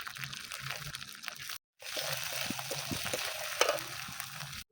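Turmeric, salt and ground spices frying in a pan give off a loud, steady sizzle with scraping stirs, broken by a brief silent gap midway.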